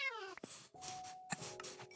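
A cat meowing in a comedy sketch, several short, distinct meows in quick succession, close and clear, with a longer drawn-out cry near the middle and a brief abrupt break partway through.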